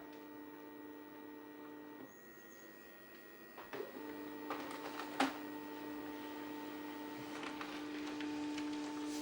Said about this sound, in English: Printer's firing up.